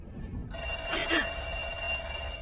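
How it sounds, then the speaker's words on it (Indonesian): A telephone rings in a tense 1978-set thriller scene, a steady electronic bell tone starting about half a second in and continuing to the end over a low background rumble. "Dirasa Bruce kembali menelpon"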